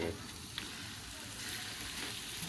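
Pork pieces frying in a pan with no added oil over low heat, giving a steady, close crackling sizzle with small pops throughout and no talking.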